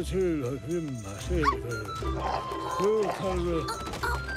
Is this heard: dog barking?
yes